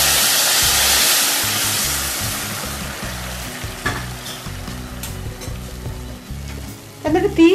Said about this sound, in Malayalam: ഇനി ഇതിലോട്ട് നമുക്ക് പഞ്ചസാര വെള്ളം ഒഴിക്കാം.